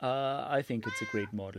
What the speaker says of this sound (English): So if you hear some meowing, that's him